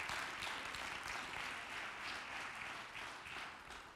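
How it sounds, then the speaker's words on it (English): A church congregation claps together during a sermon, a faint, steady wash of many hands from a distance, continuous with no voices on top. "Give the Lord a hand clap right now."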